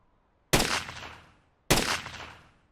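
Two loud, sharp gunshots in REM Survival, about a second apart, each with a crisp attack and a long fading echo against near silence.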